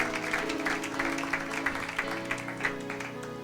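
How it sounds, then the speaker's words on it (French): Church congregation applauding rhythmically during worship, steady clapping filling the room with a voice faintly underneath. "Acclamez pour la gloire de l'Éternel, notre Dieu,"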